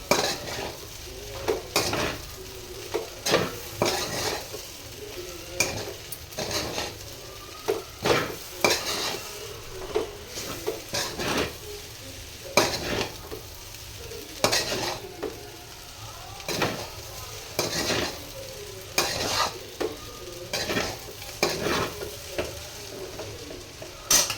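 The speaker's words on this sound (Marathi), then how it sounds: "हे कांद्याची पात, एकदा मिक्स करून घेऊ आपण आता परत एकदा त्याला." Hakka noodles with chopped spring onions being tossed in a pan, with repeated scraping utensil strokes against the pan over a soft, steady sizzle, close and fairly quiet, no voices.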